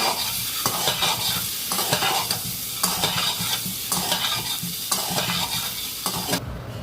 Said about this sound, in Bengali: একটু ডিম আর আলুটা ভালো একটু ভাজা হবে।